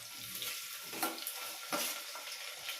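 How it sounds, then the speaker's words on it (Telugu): Sliced onion and two green chillies hitting hot oil in a pan, crackling and sizzling at a moderate level with a few sharper bursts as they go in. "ఉల్లిపాయ పచ్చిమిర్చి 2 వేస్తున్నామండి."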